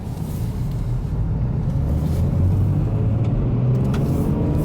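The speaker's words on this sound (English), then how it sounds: "I'm gonna go drive it around the block." Nissan R34 Skyline driving around the block, a steady low rumble of engine and road noise heard from close range with a few light knocks and rattles, no voices.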